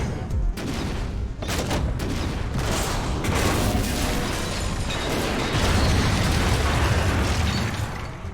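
Explosions and bursts of gunfire rip through combat in Mass Effect 2, a 2010 PC action RPG: a loud, continuous barrage of booms and pops with sharp blasts early on and a heavy sustained rumble throughout.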